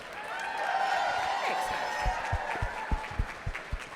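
Gala audience at a benefit event clapping and cheering in a dense crowd wash, with low thumps and a voice talking over it toward the end.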